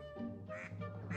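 A single nasal, honking quack from a cartoon duck in a video game, short and fairly quiet, with nothing else around it.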